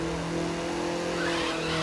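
Tires squealing as rubber burns under an Audi TT RS in The Crew video game, a steady sustained screech over a constant engine drone, loud and close throughout.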